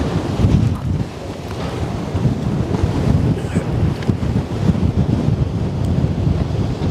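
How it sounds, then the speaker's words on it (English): Strong riverside wind buffeting the microphone beside the Westerschelde, a steady loud low rumble with gusty surges throughout and no speech. "the wind is really picking up now"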